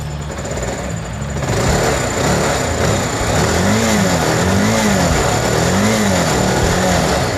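A Bajaj Pulsar 220F motorcycle engine, freshly reassembled, idles roughly and then gets revved in three or four quick blips that rise and fall in pitch, close and fairly loud.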